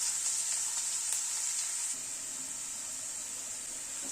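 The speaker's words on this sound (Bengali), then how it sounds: "প্রথমে আলুটাকে একটু ভেজে নিচ্ছি।" Lightly boiled potato pieces fry in oil in a pan with a bright, continuous hiss that stays loud and close, then eases slightly to a calmer sizzle halfway through.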